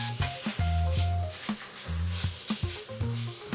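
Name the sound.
pork slices frying in oil in a wok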